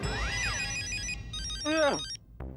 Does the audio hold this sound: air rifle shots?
no